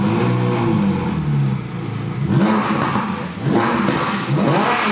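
A Ferrari 458 with a 4.5-liter naturally aspirated V8 revs hard, its loud engine note climbing and falling in repeated sweeping surges close by, with no voices heard.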